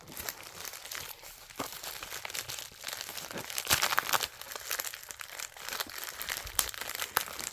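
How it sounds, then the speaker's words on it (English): Plastic packaging of a WD easystore portable hard drive being torn and crinkled open, a steady stretch of rustling and ripping with a few sharper crackles, close by and with no talking. "all I just had to do is just rip it open a little bit and get it open."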